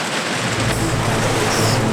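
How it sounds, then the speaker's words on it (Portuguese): Loud, dense rain pours steadily at sea with a deep, low rumble of thunder underneath, broad and constant like a heavy downpour during a storm. "Tá chovendo tanto aqui, mas tanto"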